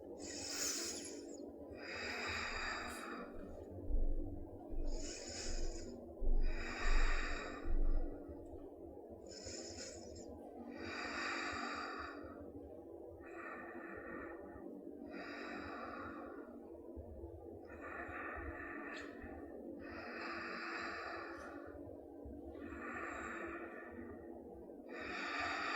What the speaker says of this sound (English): Five more deep breaths.